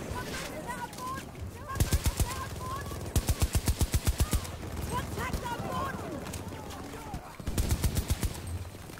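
Rapid automatic gunfire in the shooter game Battlefield 2042 comes in several sharp, evenly spaced bursts, loud and close, while a player talks over the action.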